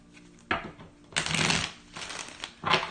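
A tarot card deck is shuffled in several quick riffling bursts, close and fairly loud, with short pauses between them and no talking.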